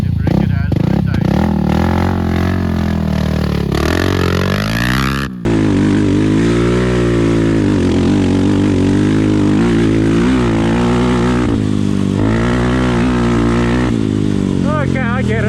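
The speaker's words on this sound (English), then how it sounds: "Now it's my turn on the ATV again" A Kayo A300 ATV engine revs hard while being ridden, a loud, wavering buzz that rises and falls continuously, with a brief cut near five seconds and voices talking over it.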